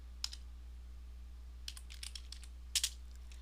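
Soft keystrokes tap on a computer keyboard in a few short bursts, faint and close against a low steady hum, with no talk.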